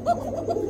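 A red checker racer pigeon of the Janardan bloodline gives a brief close, soft coo, a single short throaty call.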